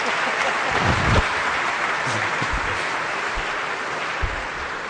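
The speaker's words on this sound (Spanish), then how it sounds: "aplaudan pues, si no, ¿cómo?" A lecture audience at a conference claps in dense, even, fairly loud applause that carries on without a break.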